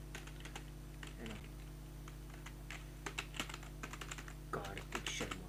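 Soft keystrokes tap on a computer keyboard in short scattered clusters over a steady low hum, quiet and close, with a brief faint voice in between.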